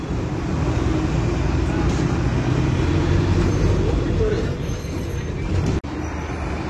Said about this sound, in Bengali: কলকাতা স্টেশনে যাওয়ার আগে ট্রামের দেখা পেয়েছি আজকে।